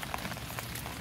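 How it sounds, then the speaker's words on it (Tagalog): Rain falling in a spring garden with strawberry plants: a dense, steady patter of drops on surfaces, fairly loud and continuous, with no voices. "ito narinig nyo, umuulan"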